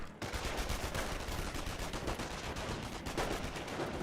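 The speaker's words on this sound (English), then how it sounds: "Rifle squad firing away." Rifle squad gunfire in the Company of Heroes strategy video game, a dense, continuous rattle of overlapping shots that holds at steady loudness for several seconds with no voices.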